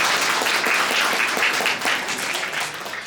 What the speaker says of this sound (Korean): 우리 하객분들 다시 한번 큰 박수로 감사의 인사 전하도록 하겠습니다